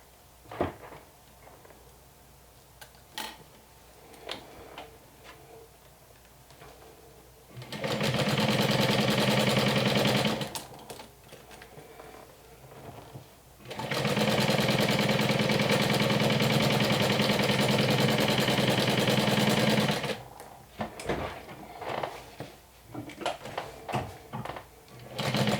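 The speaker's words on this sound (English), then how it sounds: "And now I'm just stitching it down all around, starting from the bias tape at the top there." A sewing machine stitches bias tape around a Nintendo Switch case in two long, loud continuous runs of rapid mechanical whirring, separated and framed by quieter handling clicks and rustles of fabric.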